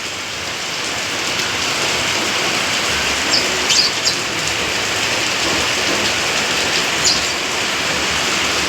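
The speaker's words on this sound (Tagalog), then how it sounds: "Malakas ang ulan, no?" Heavy rain pours down in a dense, continuous roar, with a few brief high bird chirps breaking through now and then.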